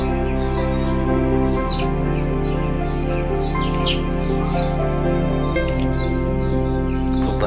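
Birds chirp and tweet around a temple with a carved stone Hanuman idol, short bright calls scattered over a steady, loud droning hum, with no talk.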